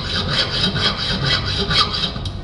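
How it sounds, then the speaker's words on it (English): A rusty hacksaw cutting through a necklace string, rendered as a loud, close rasping saw effect with regular back-and-forth strokes about twice a second, heard alone without talk. "took out a big rusty hacksaw and cut the string in the necklace"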